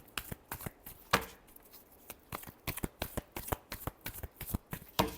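Tarot cards shuffled by hand, a run of quick crisp riffling snaps and slaps in uneven bursts, close and fairly quiet, with no talking.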